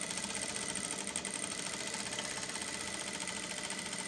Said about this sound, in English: I'm sewing towards the outside seam, that's not on the crease line.